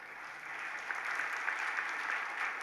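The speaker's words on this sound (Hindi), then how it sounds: "जितनों की तालियां बज रही है" Steady applause from a temple congregation during a Jain religious discourse, an even wash of many hands clapping at moderate distance with no voices over it.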